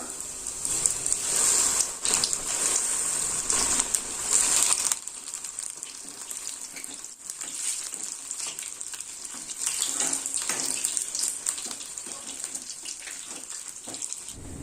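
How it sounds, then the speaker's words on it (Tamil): Sliced mushrooms sizzle steadily in hot oil over a medium flame for a street-style mushroom masala. The frying is loudest at first, then settles into a softer, continuous crackle with no talking. "இப்போ நம்ம காளான கொஞ்சம் கொஞ்சமா போட்டு ஃப்ரை பண்ணிக்கலாம்."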